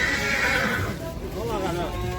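A horse lets out a loud whinny at the Shamalgan station livestock bazaar near Almaty, with faint hoof clops and people talking over the market bustle.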